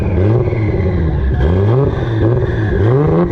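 A Toyota Supra with a PHR titanium exhaust revs repeatedly up and down, throaty, loud and close, in a rising and falling pattern.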